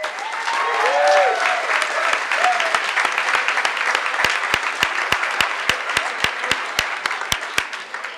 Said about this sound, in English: please cheer for your graduates